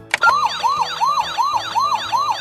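A Paw Patrol toy fire rescue truck sounds an electronic siren, a button click followed by a rapid, repeating rising wail of about six close, loud cycles.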